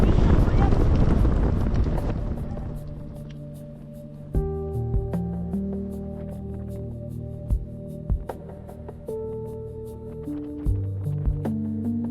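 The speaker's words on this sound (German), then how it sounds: "Und so geht's mit ordentlich Wind von vorn Richtung Esbjerg in einer kleinen Vierergruppe." Strong headwind roars against the microphone while a small group of four rides road bikes on a long-distance brevet toward Esbjerg, Denmark. The loud buffeting dominates the first few seconds, then fades under a steady humming drone.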